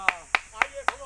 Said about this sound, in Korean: 박수 쳐드려야지.